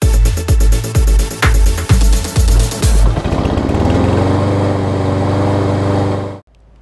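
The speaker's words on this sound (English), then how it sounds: "Let's go ahead and get started on these twin Yardman push mowers." A Yard Man push lawn mower's small engine runs close by in a loud, rhythmic chugging pulse for about three seconds, then settles into a smoother, steady drone before cutting off abruptly.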